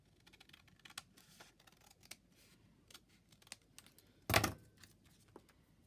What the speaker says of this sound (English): Trim it off, because then I can use that bit for something else.